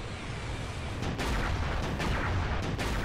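Explosions in Halo Reach burst out in a dense, noisy cluster of several booms and blasts over continuous loud battle din, with no speech.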